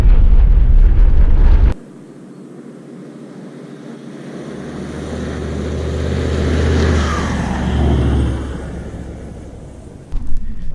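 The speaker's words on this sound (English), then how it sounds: "driving the dirt roads from, where'd I say, Cameron's Corner back down to Broken Hill" A car driving an outback dirt road from Cameron's Corner toward Broken Hill, a loud low rumble of tyres and engine with wind buffeting that swells and eases over several seconds.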